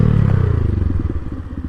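A Honda Grom motorcycle engine runs close by, a loud low rumble with rapid pulsing beats that settles into a choppy idle, with no talking.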